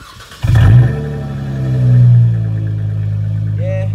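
Straight-piped six-cylinder car engine, nearby, blips hard with a loud burst, then holds a rising, sustained rev before settling into a steady rumbling idle.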